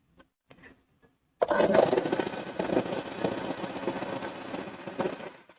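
After a second of near silence with a few faint clicks, a sewing machine starts stitching a salwar belt, running in a continuous close whirring chatter that lasts to the end.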